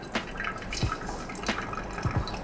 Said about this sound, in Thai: แล้วก็เทน้ำ เทเลย